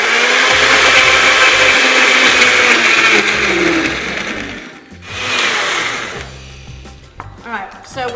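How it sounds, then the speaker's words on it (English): A kitchen blender blends grapes for fresh grape juice, a loud, steady whirring motor roar that runs for several seconds, dips briefly, then surges again before tapering into quieter rattles. "this is a blender"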